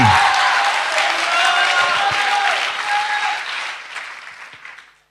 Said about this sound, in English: Clap your hands again and shout the accolades